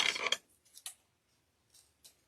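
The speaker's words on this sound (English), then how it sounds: "scissors" A few quick scissor snips cutting ribbon, close and crisp, with the first cluster sharp and loud and softer single snips following after short pauses.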